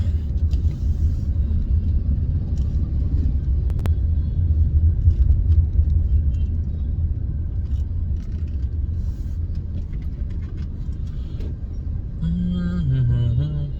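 Morning commuter road traffic in a jam, a continuous heavy low rumble of cars and engines heard from a moving bike, steady and loud, with a brief horn-like tone near the end.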